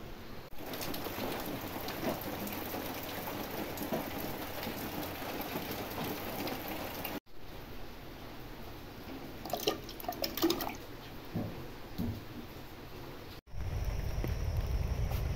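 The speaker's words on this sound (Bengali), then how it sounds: "দেখেন কেমন বৃষ্টি শুরু হয়ে গেছে।" Steady rain pours outside on a morning, a dense continuous hiss with drips and patter on surfaces, close and loud, with a quieter stretch midway before heavy downpour resumes.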